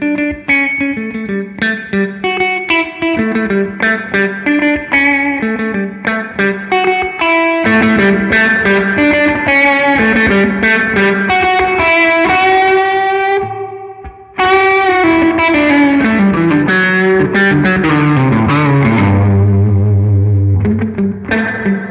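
A Fender Jazzmaster electric guitar strung with flatwound strings plays a melodic line of sustained single notes and chords through a boost pedal, sounding warm, mid-heavy and slightly driven with a washy effect, loud and alone.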